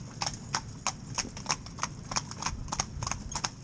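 A pair of horses pull a tandem-hitched carriage, their hooves clip-clopping in a steady, brisk rhythm of sharp, evenly spaced strikes close by on a hard road, with no talk over them.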